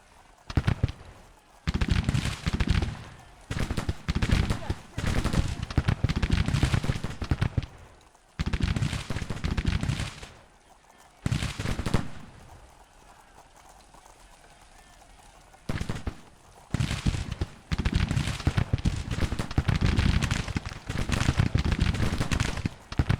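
Batteries of Civil War artillery on a hillside in Grand Tactician: The Civil War firing in repeated loud rolling bursts, with a lull in the middle before the cannonade resumes; a voice talks over parts of it.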